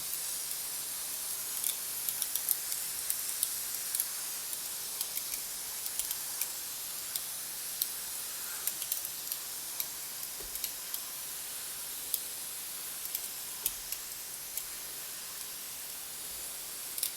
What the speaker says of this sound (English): And then I can pump it. I love this mister.